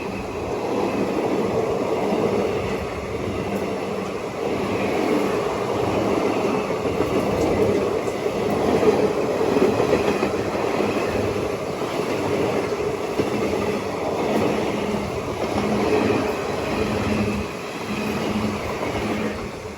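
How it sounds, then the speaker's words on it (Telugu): The Chennai Egmore–Kollam passenger train rolls past at close range, a steady loud rumble of wheels and carriages with faint rhythmic clacking that holds for the whole stretch without voices. "నేను చెప్పిన బండి ఇదే, చెన్నై ఎగ్మోర్ కొల్లం."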